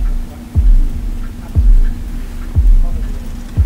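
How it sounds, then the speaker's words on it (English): A slow, deep heartbeat from an album thumps four times at an even pace over a low steady hum, loud and close. "This is the heartbeat that I was talking about in the gatefold"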